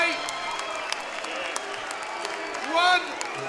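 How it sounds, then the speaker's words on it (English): Crowd applause at an MMA fight event for the two fighters, a mixed clatter of clapping with some cheering under it and a brief tonal whistle-like rise near the end. "Let's give them both a huge round of applause."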